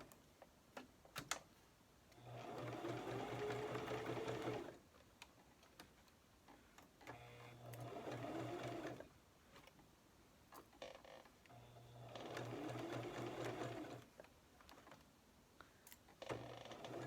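A quiet sewing machine stitches a fabric face mask over its pleats near the nose piece, running in three steady bursts separated by pauses, with faint ticking between runs.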